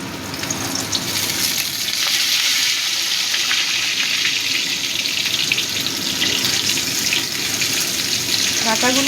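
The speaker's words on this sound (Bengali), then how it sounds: "ফোড়নটা ভাজা হয়ে গেছে, এবার আমি ডাটাগুলো দিয়ে দিচ্ছি।" Drumstick stems go into hot oil seasoned with fried nigella seeds and sizzle loudly and steadily, a dense crackling hiss close by that lasts throughout, for a Bengali katla fish curry.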